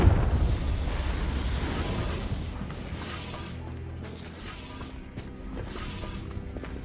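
A Confringo spell blast from Hogwarts Legacy bursts loudly at the start, then a rumbling explosive roar fades slowly under a low continuous background, with no voices.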